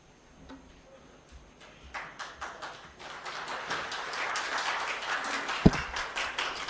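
Audience applause at a media conference at Gyan Sarovar, Abu, beginning as a few quiet claps and swelling into steady, fuller clapping from a large crowd.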